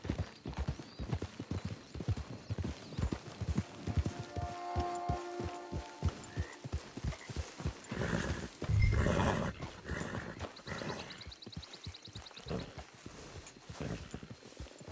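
Horse hooves trot with a steady clip-clop rhythm in the video game Red Dead Redemption 2 Online, joined partway through by a brief whinny and faint background tones.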